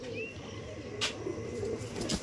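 Pigeons offered for sale coo softly in a low, throaty murmur, a few rounded calls spread across a short stretch, with a couple of sharp bright noises nearby.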